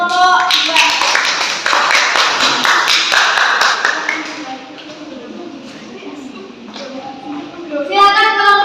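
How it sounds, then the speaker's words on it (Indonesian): A room of people claps together in a burst of applause, loud at first and then thinning out, with voices chattering over and after it. "beri tepuk tangan untuk kelompok 2"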